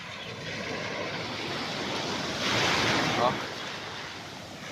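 Sea waves wash onto a beach in a steady broadband roar with wind noise, swelling louder for about a second midway before settling back.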